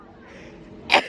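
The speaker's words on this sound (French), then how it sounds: "Excusez-moi, j'ai éternué." A single short sneeze bursts out close by after a moment of quiet breathing.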